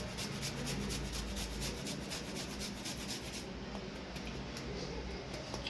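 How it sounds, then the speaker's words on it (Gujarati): Fresh ginger is grated by hand for a Gujarati chili fritter batter, making a steady, fast scraping rasp that repeats close by without pause. "અને થોડું આપણે આદું ખમણી લઈશું।"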